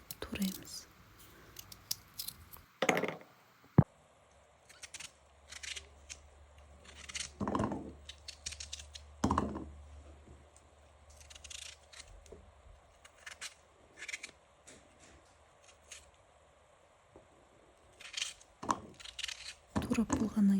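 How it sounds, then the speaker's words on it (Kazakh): Peeled, washed potatoes cut into cubes on a board, giving sharp, irregular knife chops spread across the stretch with quiet gaps, close and moderately loud. "кубиктап тураймыз."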